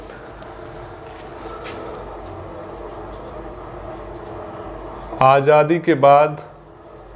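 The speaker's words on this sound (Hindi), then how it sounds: "फिर से लिख देते हैं" Handwriting on a board during a Hindi-language lesson on the interim government and constituent assembly: a faint, steady scratching runs beneath room noise, and a teacher speaks briefly near the end.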